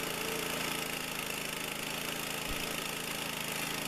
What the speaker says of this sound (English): how handy this little mill is